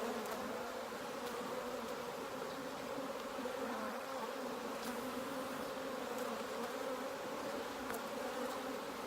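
Honeybees buzzing around an opened hive during an inspection, a steady close drone of many wings with a few sharper passes near the listener, continuous and without talk.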